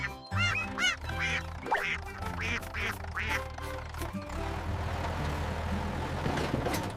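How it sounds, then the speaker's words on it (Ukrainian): A cartoon duckling quacks several times in quick bursts from a tractor's trailer over a low rumbling engine-like drone, the calls fading as the rumble continues. "Це ж веселе каченя."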